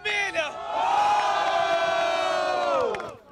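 Festive crowd at a Santa Cruz rap battle in Brazil cheering and shouting loudly for the winner, a sustained roar of voices with whoops rising over about three seconds before fading.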